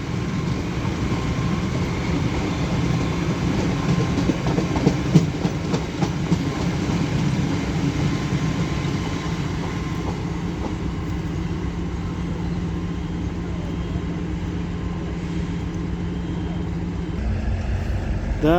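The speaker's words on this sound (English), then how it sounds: "Several flat wheels in this consist." A train with several flat wheels rolls past at Doncaster on the East Coast Main Line, a steady rumble with rhythmic clatter and repeated thumps from the wheels, fading toward the end.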